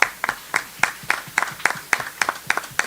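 Audience at a senior symposium applauding the next presenter, a run of sharp, evenly spaced claps, fairly sparse, as from a modest crowd, nearby and without talk over it.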